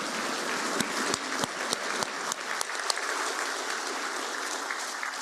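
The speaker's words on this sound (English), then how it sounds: "I think we owe Dr. Ines Triay one more round of applause as a thank you" A conference audience applauds in thanks for Dr. Ines Triay, steady sustained clapping with sharp individual claps standing out near the start, continuing evenly at moderate loudness.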